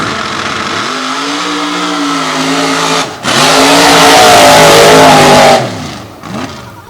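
A loud drag racing car with a 632 cubic inch big block Chevrolet engine roars and revs hard, rising in pitch through two long pulls with a brief drop between them.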